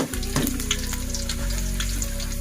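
Shallots and a blended spice paste fry in a pan for an Acehnese stir-fried anchovy dish, giving a steady close sizzle with light stirring and no talk.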